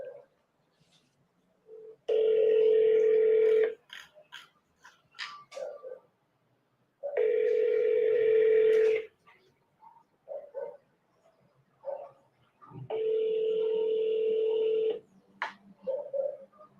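A phone call rings back through a handset earpiece, three long ringing tones spaced a few seconds apart with faint rustles and small noises between them, quiet and close.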